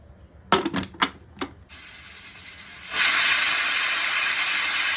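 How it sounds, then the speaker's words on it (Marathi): A pressure cooker cooking prawn rice starts a loud, steady hissing release of steam after a few sharp knocks, the hiss running on continuously and close by with no voices. "आता आपण कुकरचं झाकण लावूया आणि एकच ह्याला शिट्टी मारूया"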